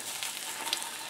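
Eggs and meatless bacon fry steadily in a pan, giving a continuous close sizzle with small pops and crackles throughout and no voices.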